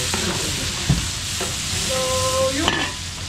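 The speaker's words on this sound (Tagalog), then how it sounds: "gisa na natin yung ating pancit bihos." Garlic and onion sauté in a pan for pancit bihon, making a loud continuous sizzle with a soft knock and a brief high whine near the end, with no voices.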